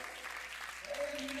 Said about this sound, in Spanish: deben darle al Señor palmas de alabanza